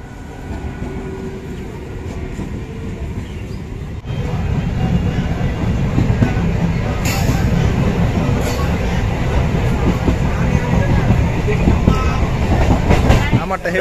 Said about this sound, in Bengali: আমাদের ট্রেনও চলে এসছে